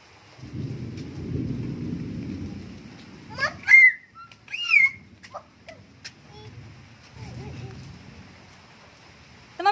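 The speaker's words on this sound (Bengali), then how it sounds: "আজকে প্রচন্ড পরিমাণে বৃষ্টি হচ্ছে, ওয়েদার খুবই খারাপ।" Heavy rain with thunder during a stormy downpour. Two long, low rumbles roll in and fade, and short, high vocal sounds are heard between them.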